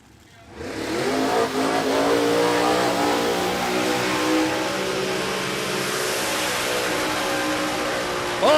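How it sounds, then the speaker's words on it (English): An altered drag racing car doing a long smoky burnout at Warwick Dragway during Nitro on the Downs qualifying, a loud sustained roaring engine with screeching tyres that starts abruptly and holds for several seconds. "Rodney Hansen, big, long, smoky burnout in the altered."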